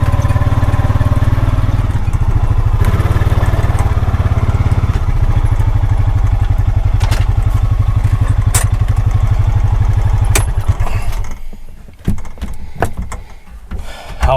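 Side-by-side utility vehicle engine idling close by with a steady low rumble, running continuously before cutting out near the end, followed by a few clanks and knocks.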